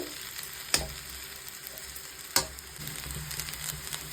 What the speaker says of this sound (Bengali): চাউমিনটাকে খুব ভালো করে মিক্স করে নিতে হবে